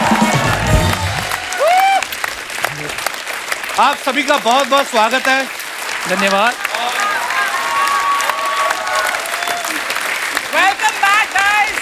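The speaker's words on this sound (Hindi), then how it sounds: "जोरदार तालियां हमारे मेहमानों के लिए" A studio audience on a comedy talk show claps for arriving guests, starting loud at first and then carrying on underneath a host's spoken welcome and thanks.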